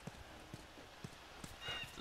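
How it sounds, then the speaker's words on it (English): A horse in The Last of Us Remastered clip-clops with a few scattered hoof beats, then gives a brief whinny near the end, fairly faint under ambient game noise. "Horse."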